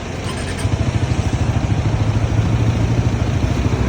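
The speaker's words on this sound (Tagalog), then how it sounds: "kailangan natin i-warm up yung makina. So buhayin natin and then start." A Suzuki Raider 150 motorcycle engine runs at a steady idle after starting, a loud, close, even mechanical putter that holds throughout with no one talking.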